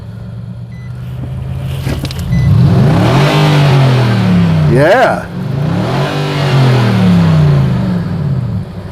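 A 2020 Nissan Titan SL pickup's engine revs up close and loud, rising and falling through two strong pulls with a deep, throaty tone, and a brief spoken word over it.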